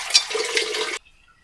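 Fatty meat is rinsed under running tap water in a home kitchen: a close, steady gush for about a second that stops abruptly into silence.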